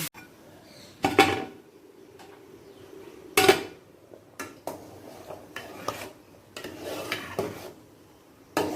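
Powdered spices being mixed into a pot for non-veg khichuri: intermittent metal spoon clanks and scrapes against the pot, several louder knocks spaced irregularly over a quiet background, with no talking.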